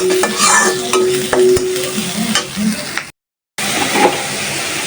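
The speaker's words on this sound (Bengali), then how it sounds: "মাছগুলো হালকা একটু বেজে নিচ্ছি মশলাটা ভালোভাবে কষায় নিচ্ছি" Hilsa fish and a chili-turmeric spice paste sizzle and fry in a pan while a utensil stirs and scrapes, with steady hiss and clinks, briefly cut to silence before the frying resumes.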